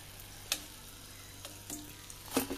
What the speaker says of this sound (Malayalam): ഇതിപ്പോൾ ഞാൻ തിരിച്ചു മറിച്ചൊക്കെ ഇട്ട് ഫ്രൈ ചെയ്തെടുത്തിട്ടുണ്ട് കണ്ടത്